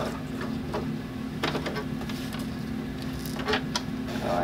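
Sewing machine stitching Velcro onto a fabric bag handle cover for luggage, a steady mechanical whir with quick stitching bursts running continuously, close and moderately loud.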